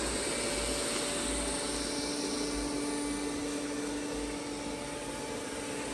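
A Dreame Z10 Pro cordless stick vacuum at maximum suction runs steadily over sand and cat litter, a loud, unbroken high whine with a rushing airflow hiss and no breaks or voices.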